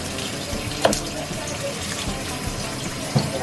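Vegetables and onion skins are rinsed under a running kitchen tap for bone broth, a steady faint stream of water with a couple of soft knocks and splashes, no talking.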